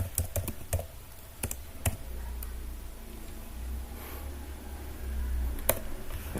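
A handful of sharp keyboard clicks come in quick clusters at the start, then sparse single taps over a steady low hum, close and alone without speech.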